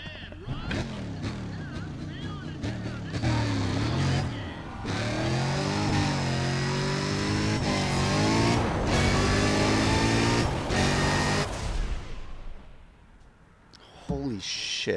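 Car engines rev and roar loudly and continuously in the Need for Speed racing game, with shifting pitch sweeps as the cars accelerate, before the sound cuts off sharply near the end.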